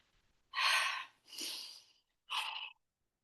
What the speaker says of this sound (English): I'm going to go into open mouth breathing